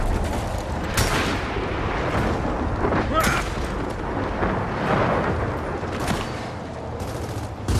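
Grenade blast in Gears of War 4 co-op play: dense bursts of gunfire and booming detonations, loud and close, with players talking over the combat.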